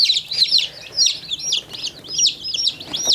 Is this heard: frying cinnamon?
no